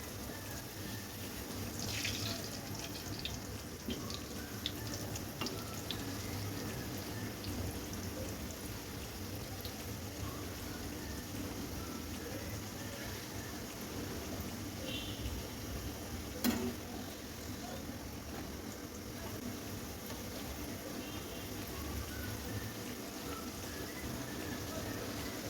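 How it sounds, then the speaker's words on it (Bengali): Dal puri frying in hot oil, pressed down as it cooks, gives a dense, steady hiss and crackle that runs close and even throughout with no talk. "সবগুলা ডালপুরি একটু চেপে চেপে ভেজে নিব।"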